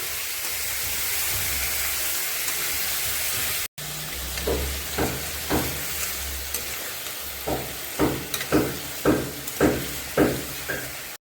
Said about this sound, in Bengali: এখন এই মশলাটা দিয়ে ভালো করে কষিয়ে নেব ফুলকপি আলুটা।